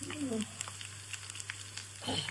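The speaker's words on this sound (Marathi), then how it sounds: "एक एक करून भाजायचं" Pieces of salted bitter gourd frying in a pan give a soft, quiet sizzle with small crackles and a few faint scrapes, close by and brief.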